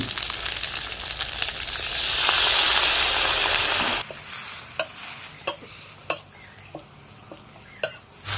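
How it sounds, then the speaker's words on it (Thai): Pad thai noodles stir-fried with a splash of water, a loud steaming hiss and gush that cuts off abruptly, then lighter sizzling punctuated by sharp spatula clanks against the pan. "แล้วก็ผัดแบบนี้ไปเรื่อยๆนะครับ พี่น้อง ผัดให้จนน้ำแห้งหรือผัดจนเส้นนิ่ม"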